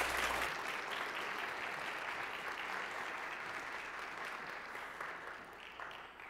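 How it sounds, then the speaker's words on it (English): Church audience applauding a choir, a broad sustained wash of clapping from a large crowd, fairly even and slowly tapering toward the end, with no talking over it. "Give them a round of applause, please."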